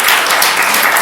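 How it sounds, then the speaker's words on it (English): An audience applauds at a city council meeting, a dense, loud burst of clapping filling the whole moment. "I'm going to ask that you don't clap because then you can't hear the names"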